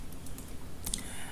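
A few quick key clicks on a computer keyboard while entering a command at a Linux command line, brief and fairly close, with no talking.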